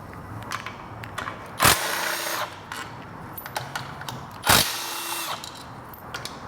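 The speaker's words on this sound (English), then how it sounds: "I'll put in an 8mm socket, and we'll just go to town on the 11 fasteners that hold the belt cover." An 8mm socket driver works loose the belt cover fasteners on a Vespa GTV scooter, giving two sharp, loud bursts of whirring a few seconds apart over steady low background noise.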